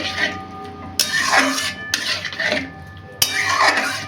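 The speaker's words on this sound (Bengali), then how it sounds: "আর দেব সামান্য ময়দার গুঁড়ো 1 চামচ মতন দিয়ে একটু বেশ করে নাড়িয়ে নেব" A spoon scraping and stirring flour into bottle gourd chutney with tamarind in a metal pan, a few sharp clinks against the pan between softer scraping strokes, close and fairly loud.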